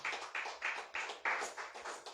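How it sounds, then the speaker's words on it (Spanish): A church congregation clapping hands together in steady rhythmic bursts, about eight even beats, moderately close and alone without talking. "Dele fuerte aplauso al Señor."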